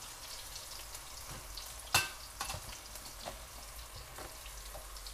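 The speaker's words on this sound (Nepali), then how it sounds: "तोरी क्र्याकल भएको हो।" Mustard seeds crackle in hot oil with potatoes in a home kitchen, a faint, steady sizzle broken by a few sharp pops, one louder snap standing out near the middle.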